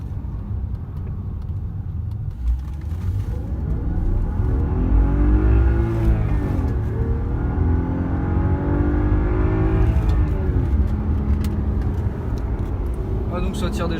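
BMW 528i F10 sedan accelerating on the road, engine note rising and falling through gears as it pulls, heard from inside the cabin with steady road rumble and people talking over it.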